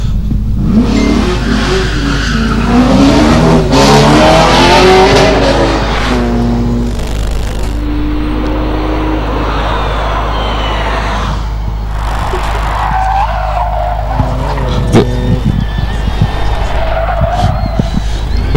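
Heavy race cars power up and skid through corners on a Lake District hillclimb course, engines roaring loud and near with tyre scrabble, fading between runs and swelling again as another car passes.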